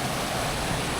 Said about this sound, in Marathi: डोंगराचे इथे एवढे सगळे धबधबे